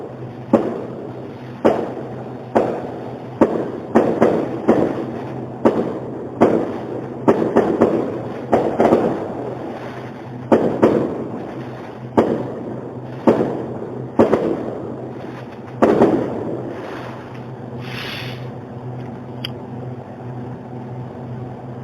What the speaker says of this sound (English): these goddamn fireworks